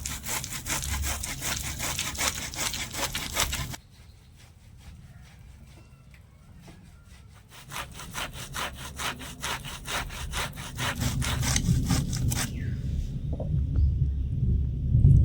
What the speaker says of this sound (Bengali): এবারে একটা গেটারের সাহায্যে আটিগুলো একটু ঘষে নেবো